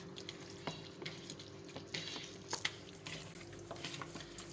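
Raw chicken is mixed by hand or spoon with vinegar, soy sauce and red chili powder, producing quiet wet squelches and light clinks against a bowl in an irregular, close, soft rhythm.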